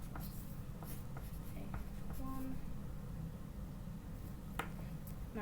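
A pencil scratches across paper in short, continuous strokes, a dry rasp that keeps going over a steady low background hum.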